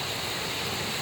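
Rain falls steadily outdoors, a continuous dense hiss of drops with no clear breaks, fairly soft and even throughout.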